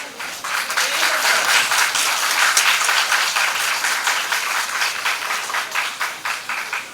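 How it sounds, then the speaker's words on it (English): An audience applauds at a women's government degree college event, dense sustained clapping from a crowd, loud and even for several seconds before slowly thinning. "great applause"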